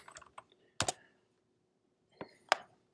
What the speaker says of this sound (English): I'm going to type in something here.